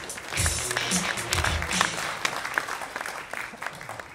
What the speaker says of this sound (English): Thank you for that ripple of applause there.